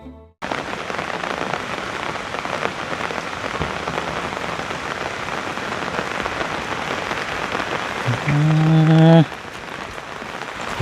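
Steady heavy rain falls at a rural Thai home, a dense continuous hiss of drops on surfaces that carries through the whole stretch, with a brief tonal sound near the end and no clear talking.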